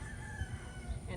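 A white rooster crows in a garden, a faint, brief call buried in steady background noise.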